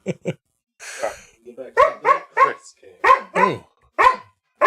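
A dog barks in a quick series of sharp, close barks, with a few short yips between them, fairly loud and clear.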